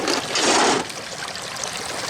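Oil boils steadily in a turkey fryer with a dense, close bubbling and sizzling rush that swells loudly for a moment and then settles into a continuous softer crackle.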